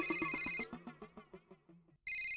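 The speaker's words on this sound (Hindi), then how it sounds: "हाथी भाई का फोन" A bright electronic phone ringtone chimes briefly, cuts off for a short melodic passage, then starts ringing again at the end.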